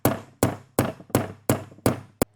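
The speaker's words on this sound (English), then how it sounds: "I just hit the head with the hammer." Seven sharp, evenly spaced hammer blows on a metal drift driving valve guides out of a Toyota engine head, each ringing briefly and decaying before the next, close and loud with no talk.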